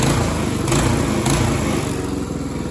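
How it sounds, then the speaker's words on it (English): A Predator 224 small engine fitted to a Coleman mini bike runs steadily and loudly close by, a continuous buzzing drone with no break and no speech. "we're running the Predator 224"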